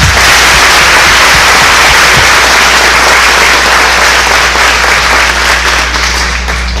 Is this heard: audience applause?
yes